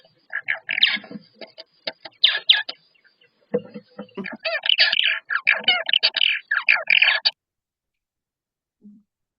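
Purple martins calling at close range, a run of rapid chirps, gurgles and chattering phrases in bursts over several seconds, loud and clear, then a pause and one faint final note.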